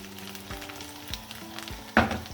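About a tablespoon of white cumin seeds crackle and sizzle in hot oil for a sarson ka saag tadka, a steady close fry with a few utensil taps and one sharper burst of spattering near the end.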